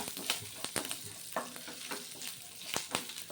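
Curry leaf tempering fries in a pan for a breakfast batter, giving a close, quiet sizzle broken by several sharp crackling pops and spatters at uneven intervals, with no talk.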